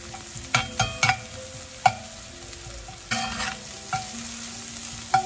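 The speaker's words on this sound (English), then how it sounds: "the flame is still high, and we're sauteing it really well to a brown consistency" Chopped ginger sautéing over a high flame for a roasted eggplant dish, with a steady sizzle and sharp clinks of a utensil stirring against the pan, several loud scrapes and taps in bursts.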